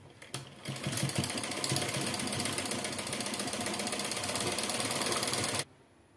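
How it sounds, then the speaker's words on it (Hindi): A sewing machine stitches a half-inch seam around the waistband of a four-panel petticoat, running in one steady, loud, close mechanical whir for about five seconds before stopping abruptly. "किनारे से जोड़ते हुए यहाँ हम आधे इंच की दूरी में पूरी गोलाई में सिलाई लगा लेंगे।"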